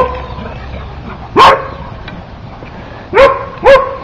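A dog guarding its yard barks at other dogs walking past: three loud, sharp barks close to the mic, one alone and then a quick pair, with a quiet pause between.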